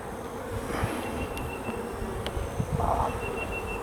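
Honeybees buzz steadily around a frame lifted from a hive holding nectar and honey, a close, continuous drone with a few sharper passes, and no talk.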